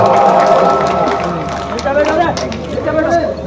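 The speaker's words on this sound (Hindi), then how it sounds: "जोरदार तालियां मामा साहब और ओम जी के लिए भी बहुत बहुत आभार" Audience applause and cheering at a live comedy show in Rajasthan, a dense burst of clapping and crowd noise that continues steadily for a few seconds.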